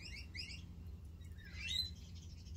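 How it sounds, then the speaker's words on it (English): Small birds chirp in a tree, faint and somewhat distant, with a couple of quick trilled calls followed by a rising sweeping note over a steady low background hum. "I like the birds."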